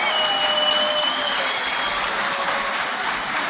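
Sustained crowd applause from an audience at a 2018 poetry mushaira in Bahrain, steady and dense throughout with no voices over it.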